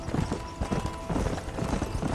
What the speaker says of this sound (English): Andando no meu cavalinho.